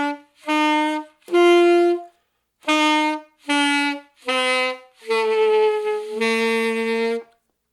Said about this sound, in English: when you're getting this honking, goose, duck-like sound, the student is too far in on the mouthpiece